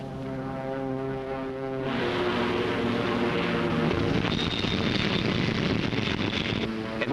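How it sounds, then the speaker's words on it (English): A Corsair fighter aircraft approaches and lands aboard a carrier, its propeller engine droning steadily with a strong harmonic hum, the roar broadening and growing louder with wind noise midway through, no talk heard. "Stand by to take aircraft aboard."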